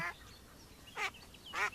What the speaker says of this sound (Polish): To jest jakaś strasznie zdenerwowana kaczka.